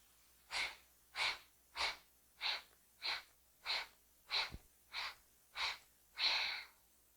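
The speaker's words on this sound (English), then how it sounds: "I would start with a big exhale, allow my inhale to come in, and then start the pumping breaths of my Kapalabhati" Kapalabhati breath of fire: ten forceful, evenly spaced nasal exhales pump out in a steady rhythm, each a sharp close puff of air.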